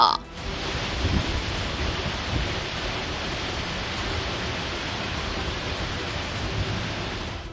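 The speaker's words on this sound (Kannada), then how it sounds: "ರಾಜ್ಯ ರಾಜಧಾನಿ ಬೆಂಗಳೂರಿನಲ್ಲಿ ಇಂದು ಗುಡುಗು ಸಹಿತ ಮಳೆಯಾಗಿದೆ" Thundery rain in Bengaluru as a steady, dense hiss that holds unbroken for the whole stretch, broad and even in level, with no voices over it.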